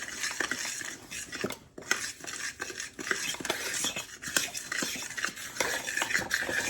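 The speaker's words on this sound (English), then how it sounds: "Now I need to mix all this together." A spoon beats brownie batter in a bowl, quick repeated clinks and scrapes against the sides in an uneven rhythm, close and steady with no talking.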